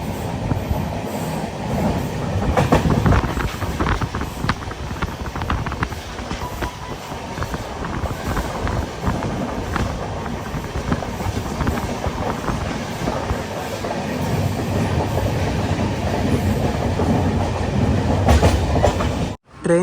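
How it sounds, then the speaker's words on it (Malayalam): Netravati Express running, heard from inside a sleeper-class coach: a loud, steady rumble of wheels on rail with clickety-clack joints and occasional squeals that continues for the whole stretch. "ട്രെയിൻ ഇപ്പോൾ കരുനാഗപ്പള്ളി സ്റ്റേഷനിലെത്തിയിരിക്കുകയാണ്."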